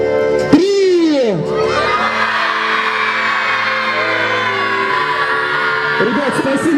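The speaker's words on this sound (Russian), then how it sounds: "на счет 3 мы все вместе кричим трикратное «Ура!»" A group of campers at a campfire shouts a triple hurrah together, loud rising whoops from many voices followed by a sustained crowd yell, with a few scattered voices at the end.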